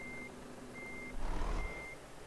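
Truck reversing alarm in a multiplayer trucking video game: a steady, moderately loud series of evenly spaced electronic beeps over low engine rumble, with a brief swell of engine noise midway and no talking.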